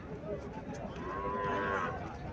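A cow moos once at a cattle market in Comilla, a drawn-out low call rising over faint background chatter and market noise.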